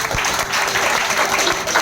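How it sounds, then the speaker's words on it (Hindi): Applause for Seema ji at an LIC retirement day function, a steady dense wash of many hands clapping from an indoor audience, fairly loud and continuous throughout with no voices over it. "तो मैं चाहता हूँ इनके लिए तालियां तो बनती है।"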